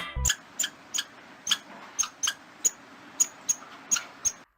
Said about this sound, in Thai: เสียงของกระรอก